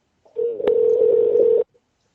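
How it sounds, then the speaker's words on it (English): Telephone dialing out on a call: a steady electronic tone holds for about a second and a half with a brief click near its start, loud and alone with no talking. "So let's give her a phone call."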